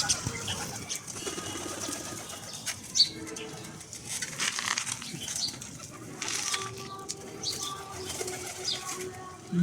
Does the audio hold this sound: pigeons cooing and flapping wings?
yes